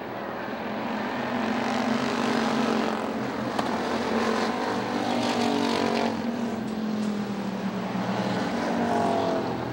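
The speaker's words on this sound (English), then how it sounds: "2 cars breaking away." Race cars roaring around the Motordrome Speedway oval during a heat race, a loud, sustained engine drone with shifting pitch as the machines speed past together, with no talking.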